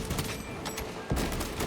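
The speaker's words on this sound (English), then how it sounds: "I'm just randomly firing here" Rapid bursts of gunfire in Space Marine 2, scattered firing shots with a heavier boom near the middle, moderately loud over busy game background.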